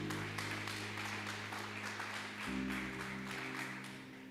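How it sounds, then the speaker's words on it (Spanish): Church congregation claps in praise during a sermon, with rhythmic hand claps over a sustained musical drone from an organ or keyboard; the applause sounds moderately distant and quiet. "Denle un aplauso al Señor"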